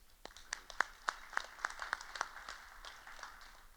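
Audience applause at a Hall of Fame induction ceremony for Florida Christian baseball inductees: scattered, fairly faint handclaps, a handful of sharp claps standing out over a softer patter that thins toward the end.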